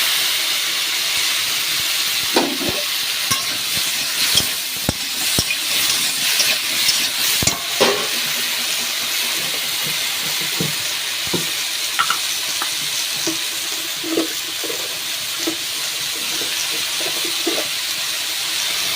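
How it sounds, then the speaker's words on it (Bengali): Okra sizzles and fries steadily in a pan, a continuous hiss broken by clinks and scrapes of stirring. "এবার এটা ভাজা ভাজা করে নেব"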